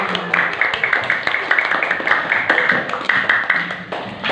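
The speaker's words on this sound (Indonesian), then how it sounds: "selamat kasih tepuk tangan untuk kita semua" Students in an Indonesian classroom clap together at the end of a lesson, a dense patter of many close hand claps lasting several seconds with a few soft voices mixed in.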